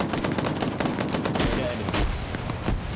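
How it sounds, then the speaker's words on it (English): Dense, rapid gunfire rattles through a video game battle, with rolling bursts and overlapping shots sounding loud and continuous throughout, a few heavier blasts standing out near the middle. "the gunfire here is pretty intense"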